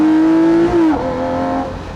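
A Lamborghini Murcielago LP640 Roadster engine revs loud and close, a high steady tone that dips briefly, then falls away as the revs drop toward the end.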